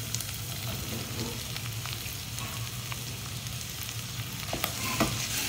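Sausage, onions and mushrooms fry in olive oil as a steady, close sizzle that holds evenly throughout, with a few faint clicks and crackles near the end.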